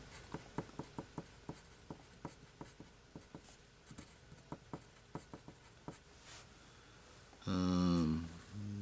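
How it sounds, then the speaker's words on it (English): A pencil scratches on a paper character sheet during a tabletop Shadowrun game in a rhythmic series of short, close strokes, followed by a brief voice near the end. "We'll just write down for his weapons."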